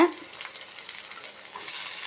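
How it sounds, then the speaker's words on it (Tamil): Steady sizzling and crackling of onion sautéing in hot oil, close and continuous, with faint stirring throughout. "அந்த வெங்காயத்தை வதக்குங்க"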